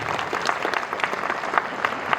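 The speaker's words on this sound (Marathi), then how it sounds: "एकदा टाळ्या वाजवल्या पाहिजे त्या पोरींसाठी" Brief applause from a lecture audience, an uneven patter of clapping with some louder individual claps standing out, moderately close.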